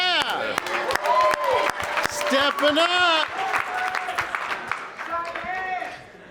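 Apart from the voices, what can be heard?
audience round of applause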